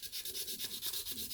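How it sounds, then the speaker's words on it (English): Rhythmic back-and-forth sanding on a handmade wooden Bowie knife, about a dozen quick, even rasping strokes close up with no voices. "it takes a lot of sanding"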